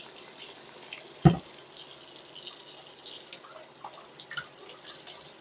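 An egg washed clean of lime solution under a running kitchen tap, heard as a faint steady trickle of water with small drips and a single sharp knock. It is close, quiet and without talking.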